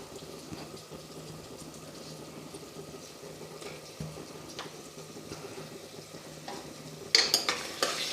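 Masoor rice ingredients with turmeric, salt and spices being stir-fried in a pan, a steady soft sizzle with scraping stirs throughout and a louder clatter of stirring near the end.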